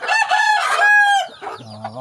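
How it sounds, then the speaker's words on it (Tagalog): A rooster crows loudly and close by in a long drawn-out call, followed by softer clucking from chickens nearby. "Ayan ang mga manok dito."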